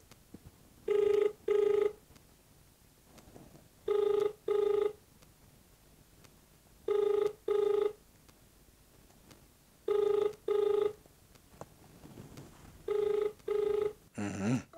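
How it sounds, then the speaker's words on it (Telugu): Telephone ringback tone repeating in double bursts, five pairs evenly spaced about three seconds apart, with a quiet hiss between them. "రింగ్ అవుతుంది"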